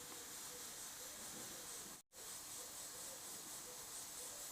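Steady airbrush hiss laying down base coat paint at a trigger-stop setting, a continuous airy spray broken by one brief cutoff midway before resuming.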